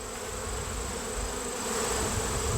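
Honeybees buzz in a dense, steady drone at an open Layens hive, close and continuous, with no talking.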